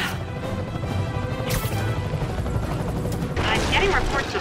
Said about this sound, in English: I'm getting reports of a helicopter with a wrecking ball.